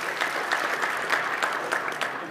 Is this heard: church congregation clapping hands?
yes